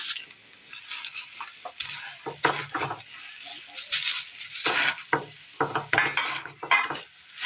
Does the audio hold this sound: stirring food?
yes